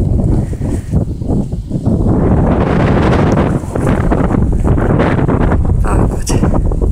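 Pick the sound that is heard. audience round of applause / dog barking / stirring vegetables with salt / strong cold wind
strong cold wind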